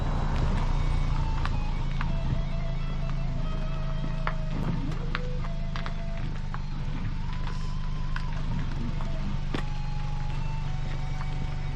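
At the start of The Dirty Disco 2025 gravel bike race, a car edges through the waiting crowd: a low, steady engine hum runs throughout, with scattered beeps and clicks above it.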